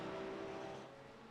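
Mercedes GT3 race car in a Le Mans racing game, a steady droning engine note held at speed, fairly faint, easing slightly lower toward the end with no talk over it.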